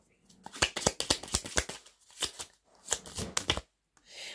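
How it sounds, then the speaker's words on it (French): A deck of cards is shuffled before three are drawn, quick riffling bursts in several rapid runs with brief pauses, close and crisp with no speech. "On va tirer 3 cartes."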